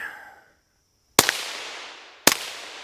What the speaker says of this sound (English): Let me put a few shots on still just to show you guys that it will cycle with the suppressor.